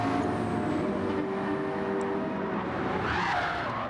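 A race car in Gran Turismo 7 at Dragon Trail Gardens loses grip and spins, a sustained tire squeal and skid over a steady engine drone, loud and continuous.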